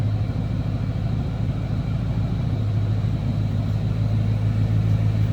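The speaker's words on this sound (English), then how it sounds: "It's a nice little throaty exhaust note is all." A 1941 Ford five-window coupe street rod idles with a throaty exhaust, a steady low rumble held at constant loudness with no talk over it.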